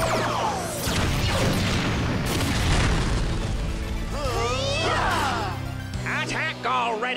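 Booming explosions like fireworks burst through a Power Rangers Dino Fury battle, a loud, dense rumble of blasts and crashes mixed with swooping effects and shouted voices.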